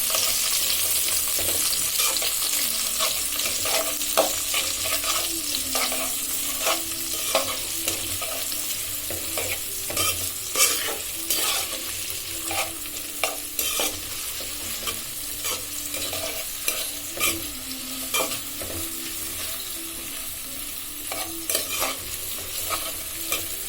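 Onion, garlic and green chillies fry in hot oil in a cooking pot, a continuous close sizzle broken by repeated scraping strokes of a spatula as the pieces are stirred, with no talk over it.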